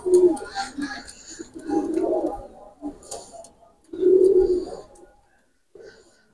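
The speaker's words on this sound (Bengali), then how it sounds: "এই এক পেয়ার সালেরা টেডি কবুতর" A pair of Teddy pigeons coo in low, throaty bursts close by, several rounds of rolling calls with short pauses between them, while a person talks intermittently.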